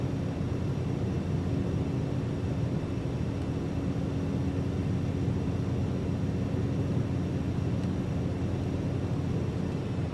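Steady, loud engine drone of a Cessna C208 cargo aircraft on landing approach, a constant broadband roar with a faint steady hum, unbroken and without voices.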